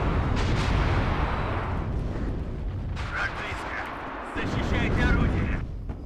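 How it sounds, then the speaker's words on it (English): Autocannon and heavy weapon fire from AMX-30 tanks in the WARNO battle game, dense continuous booming and rumbling bursts, loud and layered, with someone talking over the combat. "They've got that auto cannon, which is just"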